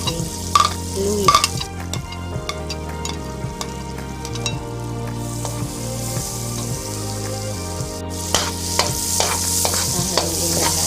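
Squid sisig with ginger stirred in a frying pan, a steady sizzle with repeated scraping stirs, under a looping music bed.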